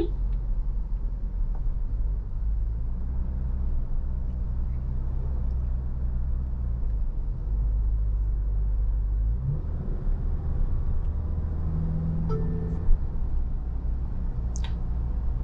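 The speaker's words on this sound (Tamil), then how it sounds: "இன்ஜின் வோக்கலாக கேட்குது நமக்கு." A steady diesel engine rumble from a Tata Safari SUV, with a low drone rising gradually as it accelerates, heard from inside the cabin.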